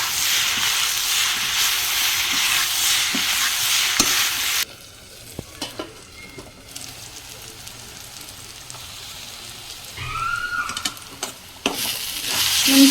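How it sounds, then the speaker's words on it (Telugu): Onions with ginger paste sizzle and fry in a pan, a loud dense hiss at first that drops quieter, broken by scraping stirs and clinks, then the sizzle swells again near the end. "మంచిగా అల్లం పేస్ట్ కూడా ఆనియన్కి మంచిగా పట్టేటట్టు కలుపుకొని పచ్చివాసన పోయేలాగా మంచిగా ఫ్రై"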